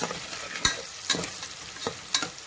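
Mutton sambar ingredients fry in a pan with a steady sizzle while a spoon scrapes and stirs in several distinct strokes, close and fairly quiet, with no voices.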